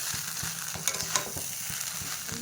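Flattened rice with sugar and turmeric stirred in a wok: a constant sizzle under rhythmic scraping strokes of a spatula, close, with a sharper clink near the end.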